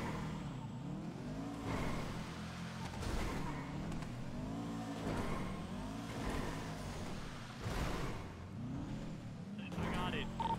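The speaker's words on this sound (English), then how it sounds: "Car's kind of loud, right?" A car engine in the NoPixel roleplay game revs up and down repeatedly in rising and falling sweeps during a Fleeca Bank getaway, with occasional tire squeals and people talking over it.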